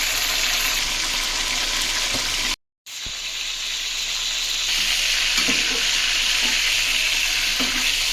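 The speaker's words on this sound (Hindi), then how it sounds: "इसी के अंदर जो है वो हम करेंगे चिकन को फ्राई" Chicken frying in leftover onion oil for a tandoori chicken korma, a steady loud sizzle with stirring scrapes throughout, briefly cut silent near the middle.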